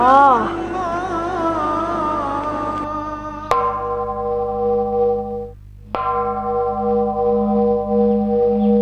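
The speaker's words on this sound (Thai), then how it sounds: "เสียงหลวงพ่อท่านตีระฆังให้ไปสวดมนต์ทำวัดไงล่ะ" A temple bell struck by a monk to call people to chanting rings out with long sustained tones, struck twice more and decaying between hits, after a wavering call-like voice at the start.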